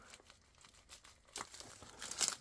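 A small vintage fountain pen package being cut open, with quiet crinkling and tearing of packaging in short bursts, growing louder toward the end.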